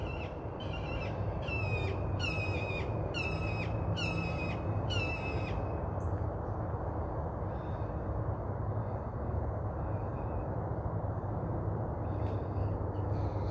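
Several loud, harsh squawking calls from a bird ring out outdoors in a quick series of five or six during the first few seconds, over a steady low rumble of background noise. Fainter scattered calls follow later.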